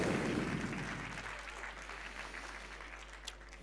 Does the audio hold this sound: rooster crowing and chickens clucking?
no